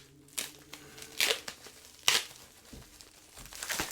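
A package wrapped in saran wrap is cut open, with loud crinkling and tearing bursts of plastic film close up, two strong rips among softer rustles, and no speech.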